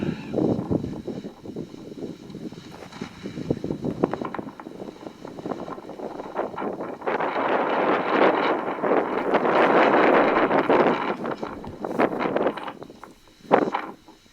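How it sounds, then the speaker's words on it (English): Wind gusting across the South Sister mountain summit, a rushing, buffeting roar on the microphone that swells louder midway, with no voices. "A little bit of wind up here."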